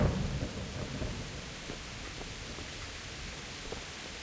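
Steady rain with a low rumble of thunder fading from loud to a constant wash in a medieval open-world game, with no voices.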